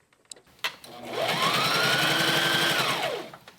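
A sewing machine stitches a summer top or dress, its motor winding up, holding a steady whirring drone for about two seconds, then winding down; a few soft handling clicks precede it, close and clear with no speech.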